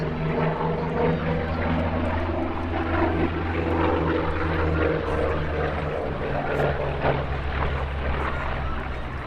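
WWII propeller fighter plane flying past at an airshow gathering, a loud, steady droning engine roar that swells and holds throughout.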